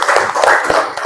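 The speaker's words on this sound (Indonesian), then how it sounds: "tepuk tangan untuk kalian semuanya" Brief, close clapping for a group of schoolchildren in a classroom, a short burst of a few hands with uneven claps, loud and near.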